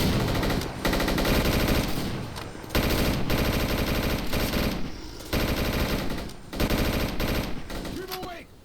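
Sustained machine gun fire in S.T.A.L.K.E.R. Clear Sky rattles loudly and continuously in long bursts with brief gaps, with voices shouting under the shooting.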